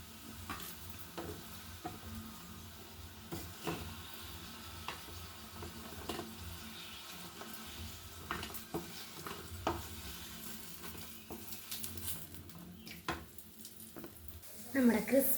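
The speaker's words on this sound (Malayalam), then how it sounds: "നമ്മുടെ വഴുതനയൊക്കെ നന്നായിട്ട് ഫ്രൈ ചെയ്ത് വെച്ചിട്ടുണ്ട്" Brinjal frying in a pan while being stirred, with steady sizzling and repeated scraping strokes throughout, close and moderately loud, with no talking.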